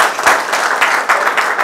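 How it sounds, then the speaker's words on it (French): A small workshop group applauds a volunteer, with a short burst of close, pulsing hand claps that swell and dip in quick waves. "il faudra l'applaudir parce qu'il a fait quand même"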